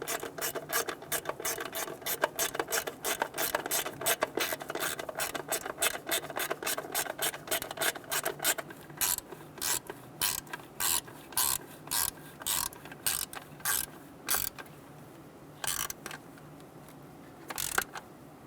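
A hand ratchet tightens bolts on the 5.7L V8 engine of a 1988-1999 GMC K1500 during ignition control module replacement, clicking in steady rapid runs up close that slow into sparser, spaced strokes.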